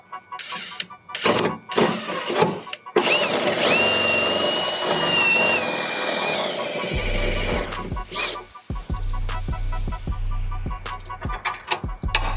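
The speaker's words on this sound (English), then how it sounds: "let me see if I can still bore this hole out with a little bit of drill bit I got left" A power drill whines loudly for several seconds boring out a hole during a transmission cooler install, with clunks and handling noise before and after, and a low rumble near the end.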